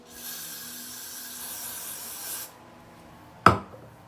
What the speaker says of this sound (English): So I'm going to just spray this section first off.